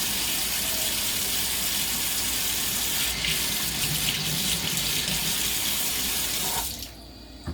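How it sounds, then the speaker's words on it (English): A tap runs with a steady, full gush of water into a sink for several seconds, then cuts off abruptly near the end, while testing a Vaillant boiler with an F28 ignition fault. "Now I'm just going to turn the water on again"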